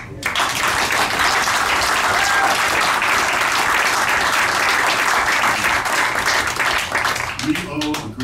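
Sustained crowd applause at a community public meeting honouring rangers who serve as first responders, a dense, even wash of clapping lasting several seconds before tapering off with a voice emerging at the end.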